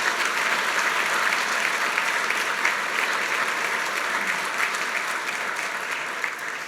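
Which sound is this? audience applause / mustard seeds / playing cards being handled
audience applause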